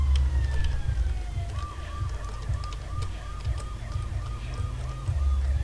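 An ambulance siren in the video game Watch Dogs wails in a steady repeating up-and-down pattern over a low engine rumble, moderately loud.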